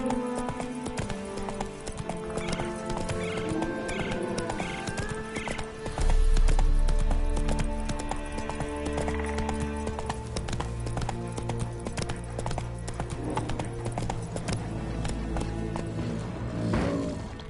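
In The Witcher III, a horse gallops in rapid, continuous hoofbeats, with a whinny and snorts over game music that swells partway through, and no one speaks.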